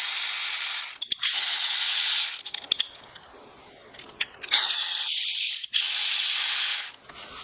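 A power ratchet removes 10 mm bolts from the engine of a Volkswagen Golf R during a spark plug change. It gives several loud, sustained whirring bursts separated by brief clicks and handling noises, all close up.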